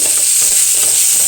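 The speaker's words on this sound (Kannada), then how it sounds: "ಇದು ಚೆನ್ನಾಗಿ ಸ್ವಲ್ಪ ಟ್ರಾನ್ಸ್ಪರೆಂಟ್ ಆಗುವವರೆಗೆ ಫ್ರೈ ಮಾಡಿದರೆ ಆಯ್ತು" A large chopped onion fries in a pan until translucent, giving a loud, close, steady hissing sizzle with no talking.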